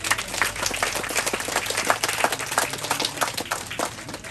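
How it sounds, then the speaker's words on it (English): A crowd claps in sustained, dense applause at a Garifuna community gathering broadcast live on radio, with rapid overlapping claps holding steady throughout. "Let's give him a round of applause."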